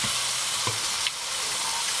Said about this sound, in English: I'm going to stir my sauce.